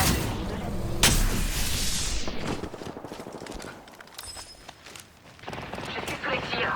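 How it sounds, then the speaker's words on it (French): Gunfire in a battle royale video game match, with bursts of rapid shots and a sharp crack early on, followed by scattered impacts and shots while a voice talks over the action. "Je suis sous les tirs."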